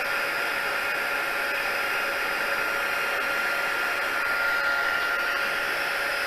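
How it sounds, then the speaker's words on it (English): A handheld heat embossing tool blows hot air in a steady, loud, unbroken whoosh that holds for several seconds with no voices. "I will bring in my embossing, my heat tool"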